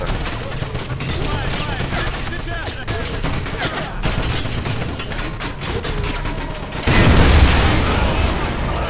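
Rapid bursts of gunfire and booming blasts from the video game Wolfenstein fill the scene in a dense, continuous barrage, with a heavier explosive surge near the end.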